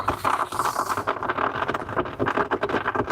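Steady rain patters loudly and continuously on a surface close by outdoors, a dense wash of drops with no voices over it.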